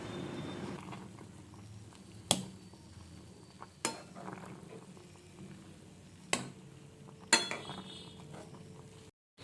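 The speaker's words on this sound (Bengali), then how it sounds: "খুলে আমি আবার খুন্তি দিয়ে ভালো করে একটু চেপে দিচ্ছি" Boiled kochu (taro) greens being pressed down in a pot with a metal spatula: a few sharp, isolated metallic clanks spaced seconds apart over a faint, steady background hum.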